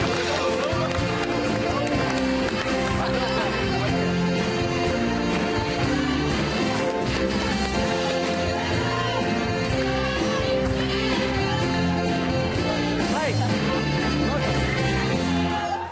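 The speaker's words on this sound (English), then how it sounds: "Big round of applause for Eleanor." A television studio audience on an Irish late-night talk show applauds loudly and continuously for a guest, sustained clapping mixed with upbeat band music for about sixteen seconds.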